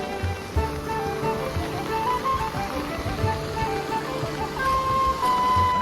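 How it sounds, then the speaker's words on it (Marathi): Swollen village stream or drain in a monsoon flood, rushing fast with a steady broadband roar of churning water, moderately loud and continuous, while faint tonal sounds sit in the background. "हे बघा किती पाण्याला वेग आहे"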